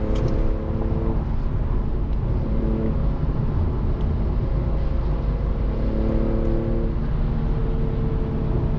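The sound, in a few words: car with Speed Culture Studios custom exhaust, VQ engine, driving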